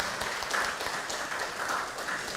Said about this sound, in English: Please give them a big, inspiring round of applause.